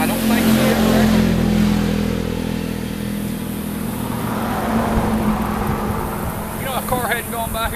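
A passing car on a quiet rural road beside a rabbitry, a steady engine and tyre rumble that swells past and fades, with people talking over it.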